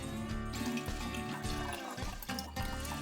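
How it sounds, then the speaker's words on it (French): Apple cider and apple juice being poured into a container, a steady liquid stream splashing and filling for about three seconds, close and fairly loud, with no talking. "On va remplir environ à 300 ml de cidre de pomme pour 300 ml de jus de pomme."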